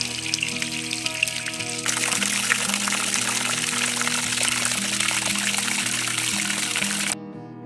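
Water from a tube runs over stones in a makeshift farm fountain, giving a steady close trickle and splash that carries on throughout, with a low tonal hum underneath.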